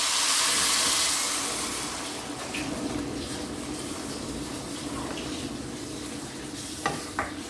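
Hot water is poured into a pot of Kashmiri pulao rice, making a loud hissing rush that fades into a softer bubbling sizzle, with a couple of faint clinks near the end.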